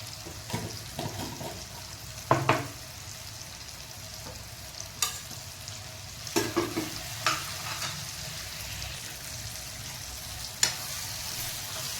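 Turmeric and salt with spices sizzling and frying in a pan for a mutton dish, a low steady hiss broken by a few sharp clicks and stirring scrapes, with no talk.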